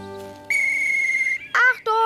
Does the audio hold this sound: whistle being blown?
yes